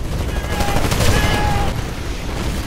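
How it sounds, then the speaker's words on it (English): Grenade blasts and gunfire rumble through a Titanfall firefight, a dense continuous barrage of booms and bursts with a few high electronic tones layered over the din. "My grenades just wrecked havoc"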